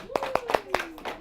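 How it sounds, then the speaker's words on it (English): A classroom of math students clapping for classmates: a handful of sharp, evenly spaced claps close by, with a voice sounding underneath. "Let's give them a round of applause."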